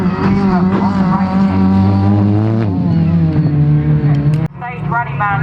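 A rallycross car slides sideways through a right-hand hairpin at Croft Circuit, its engine blaring loud and close in a sustained, wavering howl before abruptly cutting and then revving back up.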